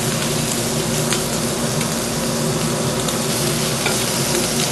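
Shrimp sizzle and fry steadily in a hot pan, a loud, dense, continuous crackle with no voices over it.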